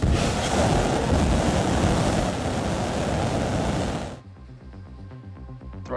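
SpaceX Starship rocket engines starting up during a test, a loud broadband roar that holds steady for about four seconds, then cuts to quieter, rhythmic mechanical and electronic sounds.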